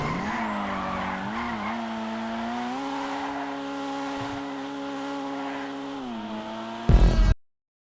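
A Dinka Jester Classic in a driving video game brakes hard and slides, its tires squealing in one long sustained screech over the engine note before a brief loud burst and a sudden cutoff.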